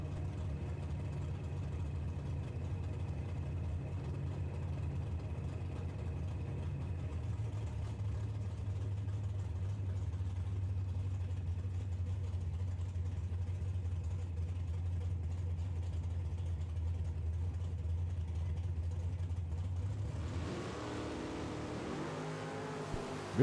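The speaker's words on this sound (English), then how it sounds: "The little small block Chevrolet 55 out of Detroit, Michigan, and he likes to rev her up." A small-block Chevrolet engine in a 1955 Chevy drag car rumbles steadily at a drag strip, a loud continuous low drone that shifts pitch slightly, then breaks into a rougher, louder burst near the end.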